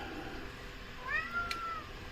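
A house cat meows indoors, a few rising, drawn-out cries close by over a low room hum, with no talk.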